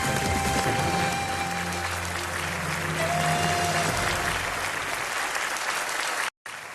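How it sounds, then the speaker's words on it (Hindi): Loud, sustained applause from the studio audience of the game show Kaun Banega Crorepati, with music tones running underneath and a sudden brief cut near the end. "जोरदार तालियों के साथ हमारे जितने भी कंटेस्टेंट्स हैं उनको बता दें"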